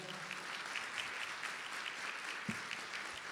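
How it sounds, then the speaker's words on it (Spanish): Audience applause at a national public budget seminar on the 2030 Sustainable Development Agenda, a steady, dense wash of clapping from a large crowd that holds evenly for several seconds with no voices over it. "El aplauso bien fuerte para ella."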